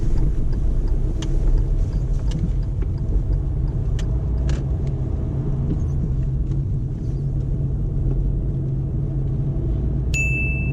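Cars on a road pass near a learner driver's stopped car, a steady low engine and tyre rumble running throughout the stretch, with a brief high tone near the end.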